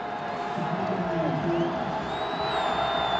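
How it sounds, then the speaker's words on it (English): Stadium crowd at a 2006 NCAA football quarterfinal, Illinois State at Youngstown State, roaring and cheering steadily in a dense wash of noise, with whistles rising near the end. "Crowd getting into this one now."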